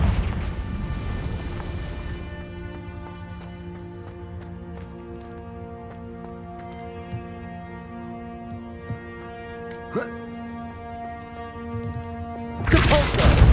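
Confringo fire spells explode in Hogwarts Legacy: a loud roaring burst opens, then a tonal game score hums with small impacts, and a second blast erupts at the end.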